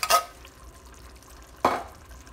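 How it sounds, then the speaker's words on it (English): A spoon scrapes and scoops canned Van Camp red kidney beans out of the can, two short, quiet wet clinks about a second and a half apart against near silence. "You need a spoon to spoon these out."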